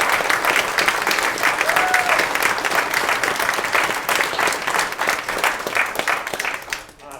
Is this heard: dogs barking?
no